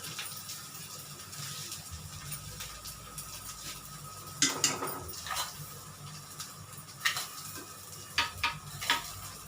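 Sugar is stirred into a banana shake with a spoon, making light scraping and clinking against the vessel. A few sharper taps and clatters come in bursts over a soft background hum. No one speaks.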